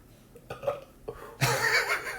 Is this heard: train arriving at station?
no